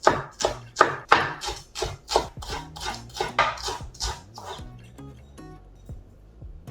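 Knife chopping green onion on a cutting board, a fast run of sharp, close taps that slows and fades toward the end.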